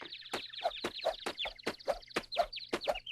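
Several chickens cluck in quick, rhythmic bursts, close by, with short sharp calls repeating over a low background hum.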